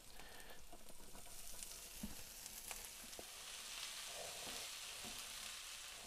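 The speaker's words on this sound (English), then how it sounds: "we're gonna keep stirring until we cook this corn down" Corn cooking in melted butter in a skillet, a faint steady sizzle with occasional soft stirring knocks, close but very quiet throughout, no voices.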